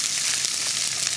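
Carrots and cabbage stir-frying for a sausage and vegetable dish, a loud, close, continuous sizzle with a faint scrape of stirring.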